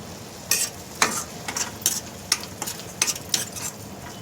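Onions softening with salt in a pan for Andhra-style fish curry, giving a soft sizzle broken by sharp scraping stirs and clinks of a spoon against the pan, close and alone.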